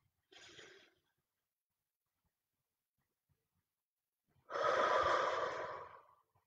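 During a breathing exercise a person takes a short, soft inhale, pauses in silence, then lets out a long, louder, breathy exhale close to the microphone.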